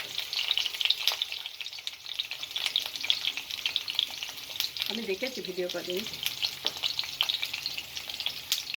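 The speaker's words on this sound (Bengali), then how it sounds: "এদিকে ভাজা আসছে মাছ" Fish frying in a pan gives off a continuous, fairly quiet sizzle and crackle with occasional pops, and a brief spoken phrase passes over it midway.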